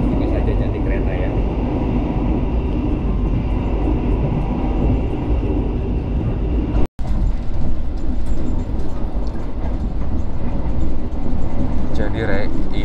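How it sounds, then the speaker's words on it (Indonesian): Gumarang passenger train rumbling steadily along the north coast, heard from inside the carriage: a loud, continuous low rail roar with faint clatter, one very brief dropout midway, and some voices underneath. "ini ceritanya kereta Gumarang lagi menyusuri tepi pantai utara ya"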